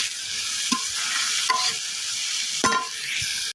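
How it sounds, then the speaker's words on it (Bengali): Shrimp fry in a pan with salt, giving a loud, continuous, close sizzle broken by a few sharp stirring clicks and scrapes. "এই লবণ দিয়ে কিন্তু মাছগুলো আমি এক মিনিট ভেজে নেব"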